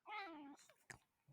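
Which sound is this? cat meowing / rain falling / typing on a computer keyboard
cat meowing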